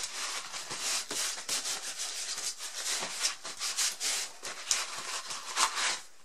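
Paper rubbing and wiping over a cork geode replica coated in UV resin, a close, continuous scratchy rustle with quick uneven strokes throughout.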